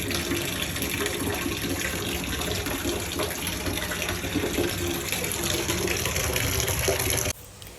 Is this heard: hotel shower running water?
yes